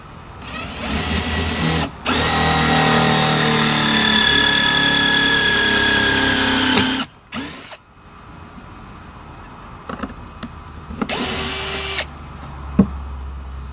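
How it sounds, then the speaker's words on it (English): A power drill whirs loudly in a long sustained burst drilling a countersink hole in 2x2 lumber, stops briefly, runs again in a short spurt, then a final brief burst after quieter handling noises. "I'm going to drill a hole here for a countersink."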